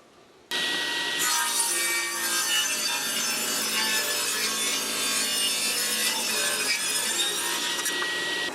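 A hand saw cuts through the edge of a rotted cedar board, with steady, rapid rasping strokes that carry on close and loud without a break after a sudden start.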